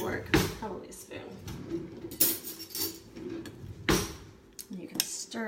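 A spoon scrapes and stirs popcorn kernels and oil in a pot, producing close metallic clinks and scraping knocks at irregular intervals while someone talks over it.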